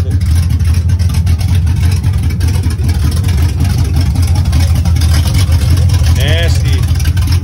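A Ford Galaxie 429 big block runs on open long tube headers, a loud, continuous rumbling idle with a choppy low exhaust pulse, close by, with brief voices over it.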